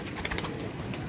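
Pigeons, including a golden pigeon, coo softly and repeatedly amid a busy, noisy background with a few brighter chirping bursts; no one speaks.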